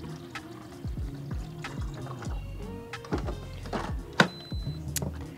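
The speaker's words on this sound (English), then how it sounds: "it's just gonna draw some water from the reservoir and then spit it out into our mug here" A Philips 3200 espresso machine runs its rinse cycle, drawing water from the reservoir and spitting it into a mug: a low mechanical hum with gurgling, pouring liquid and a sharp thunk, close and fairly quiet.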